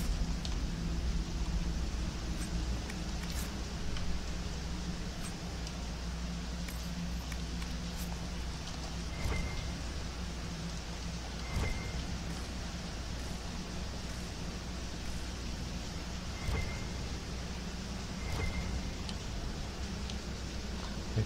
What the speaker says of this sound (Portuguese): Caralho, que chuva, parceiro.